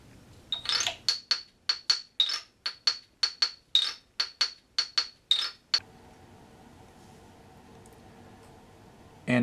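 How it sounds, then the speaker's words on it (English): A Thai xylophone gives about fifteen sharp, ringing mallet strikes in a quick, uneven run over roughly five seconds, then falls silent, leaving only a faint, low steady hum. "I'm going to use the Thai xylophone for my acoustic instrument"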